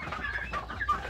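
Native chickens cluck softly nearby on a farm, a few short squawky calls over quiet ambient noise.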